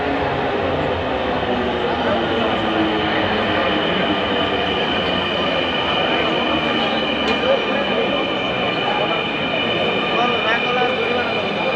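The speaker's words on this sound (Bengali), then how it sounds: "আমরা রেল স্টেশনে নামছি মেট্রো রেলে" A metro rail train at a station, with a steady rumbling hum and faint wheel screech running throughout, while someone talks over it.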